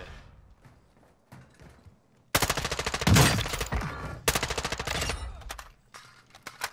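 Two sustained bursts of rapid automatic gunfire come from a video game, loud and close, with a brief gap between them. Quieter footsteps and game sounds come before the shooting.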